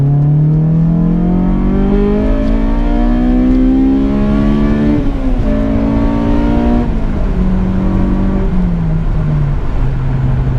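A Honda S2000 sports car accelerating hard from inside the cabin, the engine note climbing steadily through the revs, dipping at a gear change, then pulling up again, loud and continuous throughout.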